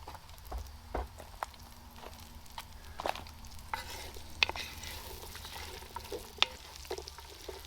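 Vegetables for a hearty lentil soup sizzling and being stirred in a pot over an open fire, with soft crackles and occasional utensil scrapes and taps, fairly quiet throughout.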